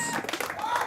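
A room claps for a contest winner, a brief burst of scattered, fairly faint hand claps with voices mixed in underneath.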